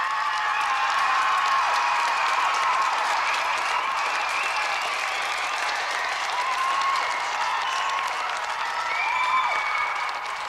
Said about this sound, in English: let's have a round of applause for both our semi-finalists, Greg Watson and Gary Harrod.